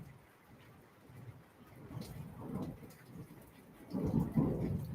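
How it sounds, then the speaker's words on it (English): Low thunder rolls and rumbles outdoors near Thunder Mountain in Sedona, swelling to a heavier, louder peak toward the end, with rain sounding faintly beneath. "When I said that, the thunder rolled."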